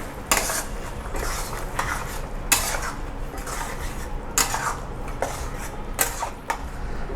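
A spoon clatters against a kadai while fresh curd is quickly stirred into chicken masala, giving steady scraping and clinking with sharp metallic knocks at intervals over a faint sizzle, close up and with no talking.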